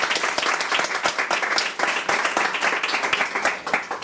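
An audience at an Al-Anon meeting applauds, dense sustained clapping from a room full of people lasting the whole stretch without a break.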